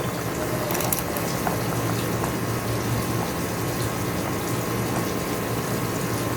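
A sour raw mango and potato curry comes to a boil in a pot, giving a continuous, fairly loud bubbling and rumbling with scattered small pops throughout.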